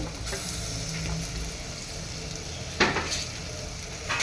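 Mutton bone pieces sizzle and fry steadily in a hot pan for mutton keema ball curry, a soft continuous crackle with a brief louder stir or clatter partway through.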